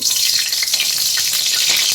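Ghee, about a spoonful, hits hot oil in a pan while cooking a Bengali cauliflower roast, giving a steady, loud, close crackling sizzle that runs unbroken with no voices.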